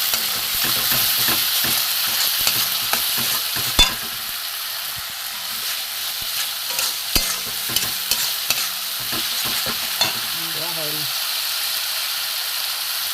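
Banana flower and moong dal with grated ginger and a spoon of sugar being sautéed in a pan: steady sizzling frying with a continuous run of close spatula scrapes and knocks throughout, and a brief faint voice near the end.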